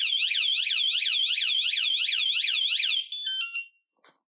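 Ride1Up electric bike anti-theft alarm blaring close and loud, a rapid repeating warble that cycles steadily for about three seconds, then breaks into a few short beeps and stops.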